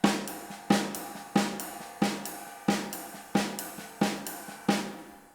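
A snare drum plays swing triplets at a steady tempo, with eight sharp accented cracks spaced evenly and softer ghost notes filling between them, close and alone.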